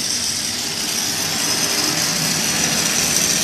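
Brazing torch heating a joint between iron and copper refrigeration pipe, a loud continuous roaring hiss held close and steady throughout, with no talk over it.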